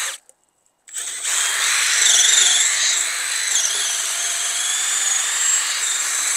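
After a short silence, a high-pitched cordless drill whines loudly and steadily, its pitch wavering slightly as it mills into a tree trunk to hollow a nest cavity.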